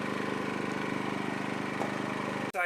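A Champion 1850 watt generator runs outside a camper, a steady mid-pitched engine drone with a fast regular throb, close and continuous until a brief dip at the end.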